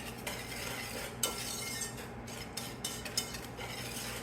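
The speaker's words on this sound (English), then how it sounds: "right now, I'm just going to put those together, and I'm going to whisk them together" A whisk stirs sugar and flour together in a bowl for a Southern banana pudding, quiet repeated scraping strokes with a few light clinks against the side.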